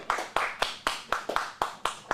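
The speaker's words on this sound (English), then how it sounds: "That was a pity clap, wasn't it?" A small comedy-showcase audience gives a thin, halfhearted round of applause, roughly a dozen distinct claps in an uneven rhythm, close and isolated without talk.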